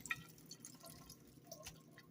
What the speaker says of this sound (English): we are going to pour the kernels into the colander, rinse them with water, and drain it